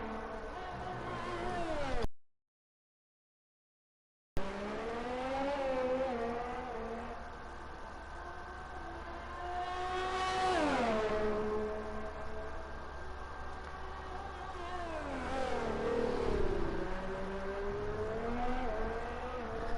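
Formula 1 race cars lap the Austria circuit in a racing video game, their whining engines rising and falling in pitch through gear changes and corners at moderate volume, with no voices.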